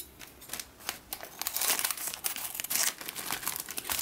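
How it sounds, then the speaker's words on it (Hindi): Scissors cut open a plastic toy packet of crunchy rings. The crinkly plastic rustles and crackles in repeated close bursts that grow busier and louder as the cutting goes on, with no talking. "कैंची से कतर लेंगे"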